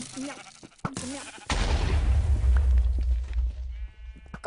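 A sheep bleats twice in a video game, short wavering cries followed by a deep booming explosion-like rumble that fades out, with game sounds around it.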